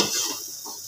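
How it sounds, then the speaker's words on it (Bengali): Bottle gourd greens frying and being stirred in a pan, a soft close sizzle with brief scraping strokes of a utensil over under a second. "ভালো করে ভেজে নেব"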